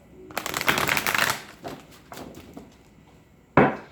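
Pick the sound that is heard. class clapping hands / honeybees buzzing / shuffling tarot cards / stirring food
shuffling tarot cards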